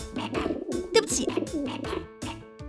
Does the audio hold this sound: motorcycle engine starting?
no